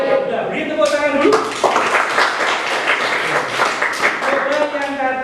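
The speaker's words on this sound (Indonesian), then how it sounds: "Udah, beri tepuk tangan dulu." A classroom of students clapping together, quick overlapping claps in bursts while voices chatter and call out over them fairly close by.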